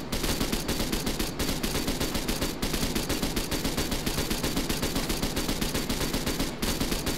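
Vehicle-mounted front gun firing in ArmA 3, a continuous rapid stream of loud shots that runs without pause through the whole stretch, dense and close.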